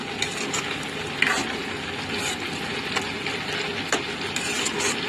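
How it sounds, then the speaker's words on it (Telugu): Mutton liver curry frying and sizzling in a pan while it is stirred slowly, a steady dense hiss broken by occasional scraping and clinking spoon strokes, close and fairly loud with no talk. "ఇలా చక్కగా కొంచెం స్లోగా కలుపుకోవాలండి"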